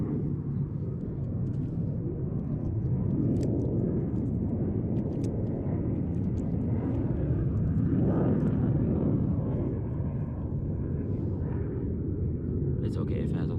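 A jet aircraft passes overhead as a broad, steady roar that swells slightly midway and stays loud throughout, with no talk.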